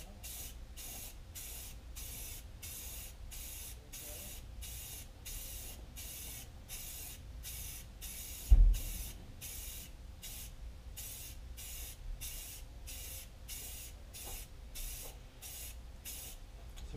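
Spray paint hisses from a can in repeated short bursts onto a sanded motorcycle fairing for a KTM 690R Enduro, a steady rhythm of even pulses close by with one brief thump midway.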